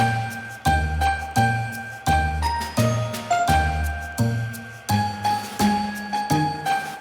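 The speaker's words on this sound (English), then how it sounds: "Bells." Bright jingle bells ring in a steady, regular pattern of strikes, each chime ringing out clearly and close, with no voices.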